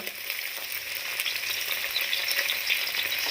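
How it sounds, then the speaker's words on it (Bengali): Potatoes and okra frying in oil in a pan for a vegetarian okra-potato chorchori, a steady close crackling sizzle with no voices. "আলু আর ভেন্ডিগুলোকে লাল লাল করে ভেজে নেব"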